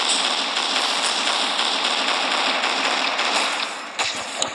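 Rapid, dense gunfire from the prototype weapon in the mobile shooter Pixel Gun 3D, a steady crackling burst held loud and close for several seconds, with a sharper shot or two near the end.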